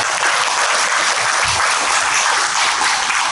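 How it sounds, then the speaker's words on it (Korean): Seminar audience clapping in a lecture hall, a steady, fairly loud burst of many hands applauding together without pause for a few seconds, no voices over it. "뜨거운 박수 부탁드립니다"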